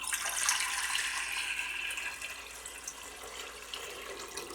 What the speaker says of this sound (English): you're just going to pour your water into the pot